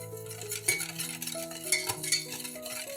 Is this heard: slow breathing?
no